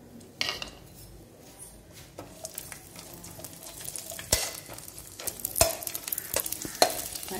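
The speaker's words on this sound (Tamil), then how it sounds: "இந்த அளவுக்கு நம்ம நெய் போட்டிருக்கோம் இதில் வந்து இந்த முந்திரி திராட்சை வந்து நம்ம முதல்ல போட்டுடலாம்" Cashews and raisins fry in ghee in a pan while a spoon stirs and scrapes, so a soft sizzle runs under sharp metallic clinks of utensil on pan, close up, without speech.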